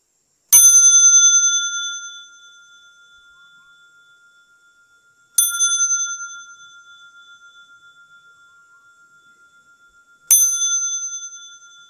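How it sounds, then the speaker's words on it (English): A hand bell rung at a meditation retreat to announce lunchtime: three clear, bright single strikes spaced about five seconds apart, each ringing out and slowly decaying, with no talking. "I wasn't going to ring the bell, but then I thought you wouldn't know that it's lunchtime."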